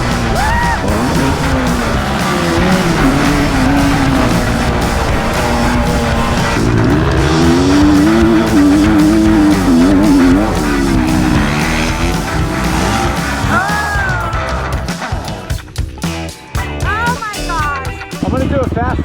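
Motocross bike ripping a fast lap on a new track, a continuous loud engine drone with rising and falling revs and gear changes, then choppier bursts and brief drops near the end as the rider works through corners.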